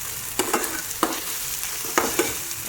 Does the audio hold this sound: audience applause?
no